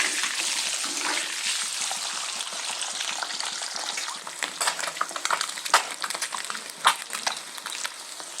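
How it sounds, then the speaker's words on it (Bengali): Eggs frying in hot oil in a pan for Bengali egg pulao give a steady, close sizzle throughout, with scattered louder pops and spatters in the second half and no voices. "এবার আমি তেলের মধ্যে দিয়ে ডিমগুলো সুন্দর করে ভেজে নেব।"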